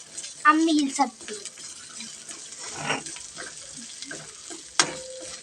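Bitter gourd, green chili and curry leaves fry in a pan with a steady, close sizzle and occasional stirring scrapes, and a voice briefly cuts in near the start.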